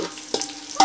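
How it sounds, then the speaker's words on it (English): Onion caramelizing in a pan for Kenyan cooking, a soft close sizzle with two brief stirring scrapes. "Onion is caramelizing and it's looking good."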